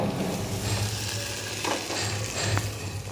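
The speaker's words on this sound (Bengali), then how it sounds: "মশলার সাথে আরও 10 মিনিট কষিয়ে নিলাম" Half-boiled potatoes sauté with spices in a pan for an egg and potato curry, a constant close sizzle with occasional stirring scrapes and no talking.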